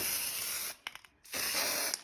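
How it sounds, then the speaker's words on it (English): A short hiss of spray paint from an aerosol can onto pointe shoes, two close bursts separated by a brief pause. "Shake up the spray paint really well. Simply spray it."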